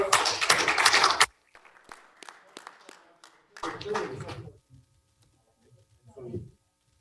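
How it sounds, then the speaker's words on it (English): A short burst of audience applause at a city council meeting, loud and dense for about a second before cutting off sharply, followed by scattered taps and then people talking. "Another round of applause."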